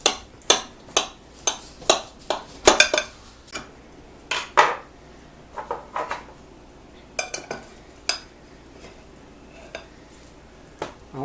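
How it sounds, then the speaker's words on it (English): Plates and utensils clatter and clink in a string of sharp, close knocks and taps as food is dished up, some strikes landing in quick clusters with short pauses between. "Dish up Papa a plate."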